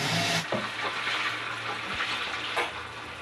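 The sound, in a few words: fish frying in a pan for masala curry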